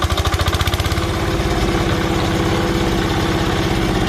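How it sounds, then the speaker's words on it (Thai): An old Japanese Yanmar diesel engine on a trencher used for laying water pipe and cable fires up with a few loud chugging pulses, then settles into a steady, rhythmic close-up idle with a low rumbling throb. "ลองสตาร์ทดู ระบบใช้งานได้หมดนะครับ"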